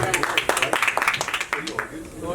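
Scattered clapping at a Bollywood film press conference, a series of sharp, uneven hand claps from the crowd mixed with chatter and voices, thinning out toward the end.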